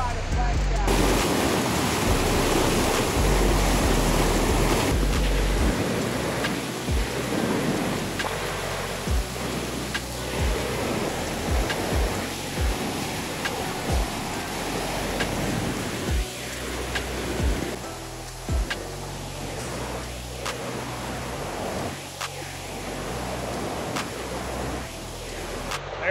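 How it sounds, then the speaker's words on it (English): Debris flow flash flood on Schultz Creek near Flagstaff, Arizona rushes as a loud, continuous roar of churning water with constant broadband noise and some wind buffeting. "Very substantial debris flow here, and flash flood as expected."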